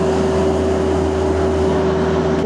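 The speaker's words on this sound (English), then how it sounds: "So we're gonna start the machine, idle it up, engage the valves" Rippa R32-3 mini excavator engine running steadily at idle, a loud continuous drone with a strong low hum and a sustained tonal whine throughout, close by with no talk.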